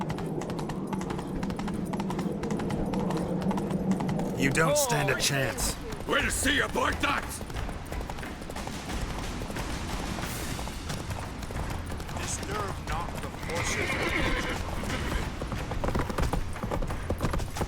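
Horse hooves pound steadily in The Witcher 3, a fast galloping clip-clop running under loud spoken dialogue and other action noise.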